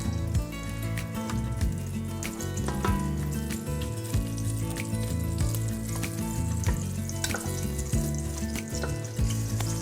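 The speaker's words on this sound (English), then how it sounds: "We're going to melt 3 tablespoons of butter in a Dutch oven or heavy bottom pot." Butter melting in a Dutch oven gives a steady crackling sizzle throughout, with small pops and clinks of a utensil against the heavy pot, no voices present.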